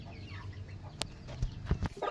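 Rhode Island Red crossed with native chickens clucking nearby, a few short separate calls over low background noise with no voices.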